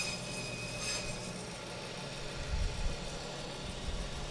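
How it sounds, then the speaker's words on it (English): A meat bandsaw runs while cutting rib chops from half a hog, a steady low motor hum and vibration with a slight rise in grinding about halfway through the short stretch. "So I'm just gonna take my bandsaw and start cutting"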